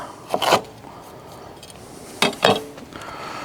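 A spoon scraping and stirring a thick chicken bacon ranch casserole mixture in a bowl, two short bursts of rubbing scrapes, fairly close, with quiet pauses between.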